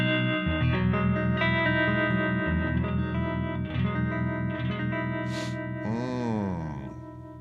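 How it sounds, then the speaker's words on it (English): An electric guitar plays through an amplifier's harmonic vibrato, sustained chords pulsing with a steady warble, then a bright pick scrape and a descending slide near the end, loud and close with reverb. "that is the harmonic vibrato in the amplifier"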